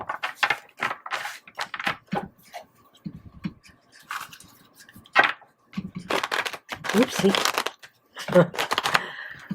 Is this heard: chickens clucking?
no